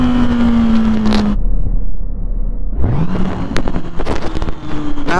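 A 2006 Kawasaki Ninja ZX-6R 636 motorcycle accelerates hard, its high engine whine climbing, dropping away briefly as the rider shifts, then rising again under loud wind roar, recorded close from the rider's position.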